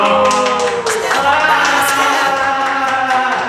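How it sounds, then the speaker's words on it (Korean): Loud, continuous applause from a youth church service congregation, steady and dense throughout with no voices standing out. "박수!"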